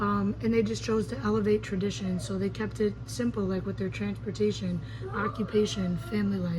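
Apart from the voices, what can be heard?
No everyday noise stands out behind the speech.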